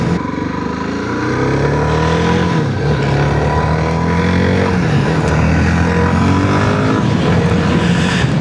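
A Suzuki DR-Z4SM supermoto motorcycle engine drones loudly and steadily while being ridden, its pitch rising and falling slightly with throttle changes, close and continuous with wind noise.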